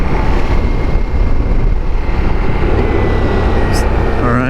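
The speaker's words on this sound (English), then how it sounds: "Look at, see how quick, just rolling off the throttle, it really came down a lot." Ducati Multistrada V4S motorcycle engine decelerating after the throttle is rolled off at night, a steady loud broadband drone with wind rush that winds down, heard from the rider's position.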